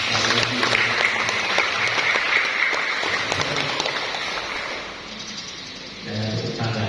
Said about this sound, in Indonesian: kita kasih tepuk tangan yang meriah